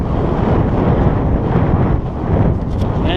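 Strong morning wind buffets the microphone of a GoPro Hero3+ on a bicycle commute, a heavy, low rumbling roar that gusts continuously, dipping briefly before surging again.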